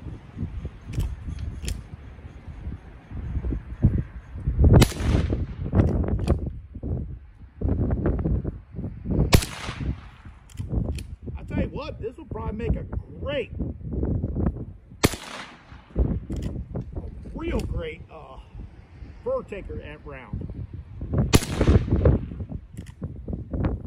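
Sharp rimfire rifle reports from Aguila .22 Super Maximum 30-grain ammunition, several loud cracks spaced seconds apart outdoors, each with a short ringing tail, plus handling noise between shots.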